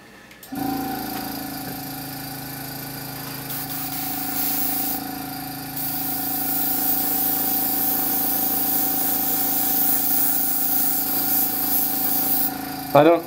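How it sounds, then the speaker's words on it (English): Spray paint hisses steadily from an airbrush or spray gun as a slightly darker camo shade goes over a base coat for a digital camouflage pattern, close and continuous for most of the stretch with a faint hum underneath. "I'm just gonna spray it really simple"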